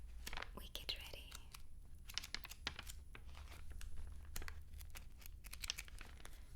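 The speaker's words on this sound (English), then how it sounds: "So let's enjoy some page turning" Pages of a Christmas coloring book being turned and handled up close, soft papery swishes and crinkles in irregular bursts, quiet and intimate, with some whispering.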